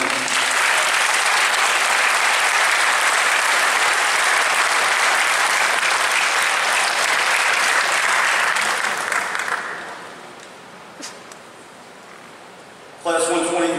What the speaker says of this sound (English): Ladies and gentlemen, give a big round of applause to Class 120.